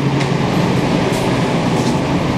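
Riding aboard a Montreal STM MR-63 rubber-tired metro train, a loud continuous rumbling roar of the car in motion with faint squeals.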